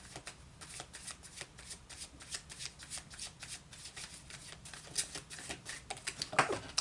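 Wizard's Tarot cards shuffled by hand, making quick papery riffles and soft slaps in a rapid uneven rhythm, close and fairly quiet, with a slightly sharper flurry near the end.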